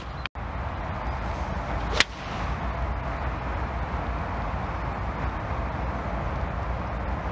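A 3-iron strikes a golf ball from the fairway with one sharp whip-like crack, then a steady outdoor wind-like rush follows after a brief earlier click.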